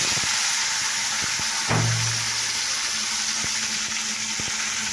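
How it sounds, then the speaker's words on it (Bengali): Cauliflower frying in hot oil in a pan, a continuous hissing sizzle with a brief low thump partway through and a few faint clicks, close and without talk. "দেখো এখন আমার এই ফুলকপি ভাজা হচ্ছে"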